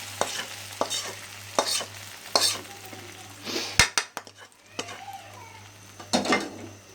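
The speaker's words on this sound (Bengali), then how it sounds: "এখন বাগার দিয়ে দিলাম খিচুড়িটা" Hot spice tempering sizzles into chicken and vegetable khichuri with potato, cauliflower, beans and carrot, mixed with repeated bursts of stirring and utensil scraping against the pot, close and fairly loud.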